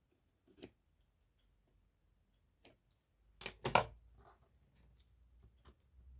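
Scissors trim with a few sparse, quiet snips spread apart in a hushed room, plus a brief louder cluster of cuts midway, with no talking.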